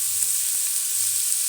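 Oil sizzles in a cooking pot with a steady, bright hiss and a couple of soft knocks, alone with no voices.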